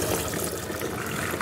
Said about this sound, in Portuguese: Então, nós vamos escorrer essa água.